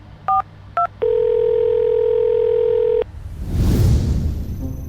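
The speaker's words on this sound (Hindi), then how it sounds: "कॉल मिलाओ" Telephone dialing: two short keypad tones, then a steady dial tone for about two seconds, followed by a rushing burst of noise. The sounds are close and clear, and no one speaks.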